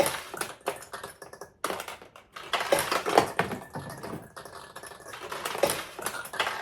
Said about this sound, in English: the proper way to launch a ball with a pachinko machine is to go all the way down and just let it roll off your thumb